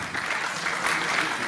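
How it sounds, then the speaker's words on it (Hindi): An audience at an app launch event applauds a hostess coming on stage, steady dense clapping filling the whole moment, loud and continuous. "ताली बजाइए हमारे होस्टेस के लिए।"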